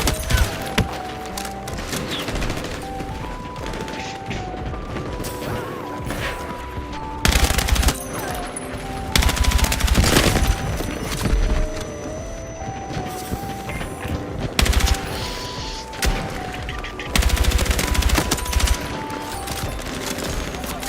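Rapid gunfire bursts in a first-person shooter video game, with repeated loud volleys and sustained automatic fire set over continuous game background sound.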